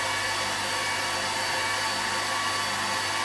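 ACMER P2 33W desktop laser cutting stainless steel gives a steady, loud broadband whir and hiss, like a fan or blower running without pause.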